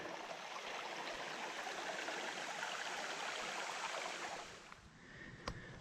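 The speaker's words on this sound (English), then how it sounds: "There's a beautiful creek though." A forest creek along the pine woodland Sourwood Trail, water rushing in a steady broadband wash, fairly loud and continuous before easing slightly near the end, with no voices.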